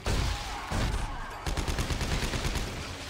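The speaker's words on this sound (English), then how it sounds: "This calls for the shotgun right now." Shotgun blasts from the horror game Dead Space 3 crack out in quick succession, loud and close, with dense rumbling gunfire filling the short span and no speech over it.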